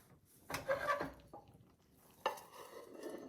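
A few close clattering knocks as a plate is placed in a frying pan and flipped over while making omurice, one bunched thud early and another sharp clunk later, with soft shuffling between.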